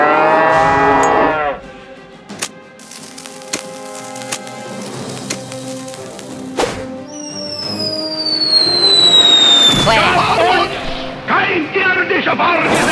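Cows mooing in the South Park: The Stick of Truth video game: several loud, drawn-out bovine lows early on, then battle effects with sweeping whistles and bursts; no talk.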